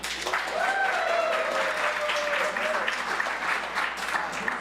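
Theater audience at an improv comedy musical show applauding, a full steady burst of clapping with a brief voice or cheer sliding over it.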